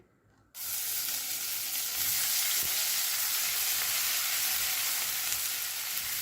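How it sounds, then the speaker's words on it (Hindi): Loud, steady sizzling of garlic ginger paste frying in a hot pan, beginning abruptly after a brief quiet moment and continuing with faint stirring scrapes. "जैसे ये सौते हो रही है, बहुत जल्दी से ही हो जाती है"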